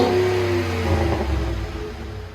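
A 2010 Ford F-150 5.4-liter Triton V8 revs hard and holds a loud, throaty roar, then eases down as the rumble fades slightly.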